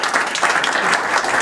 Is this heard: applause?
yes